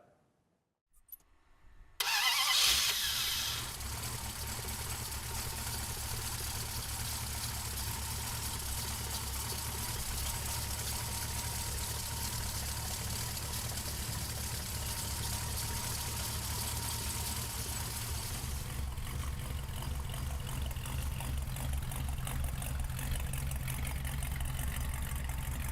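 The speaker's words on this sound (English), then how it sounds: "we'll fire this 50 Merc flathead up" A 1950 Mercury flathead engine in a 1932 Ford street rod cranks briefly, catches and settles into a steady, rumbling idle that runs on close and unbroken.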